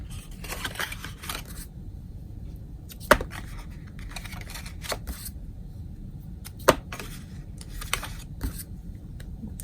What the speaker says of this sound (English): And I use the same trimmer and the same scoring tool.